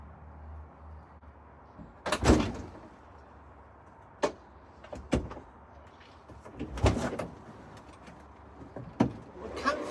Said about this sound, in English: Let's open these back doors so we can get the stuff out and clean it.